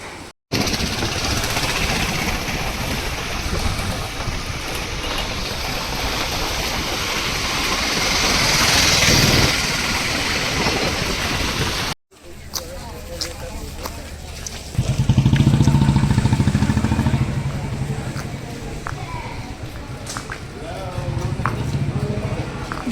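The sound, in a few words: rented two-wheeler being ridden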